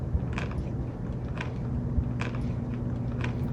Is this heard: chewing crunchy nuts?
yes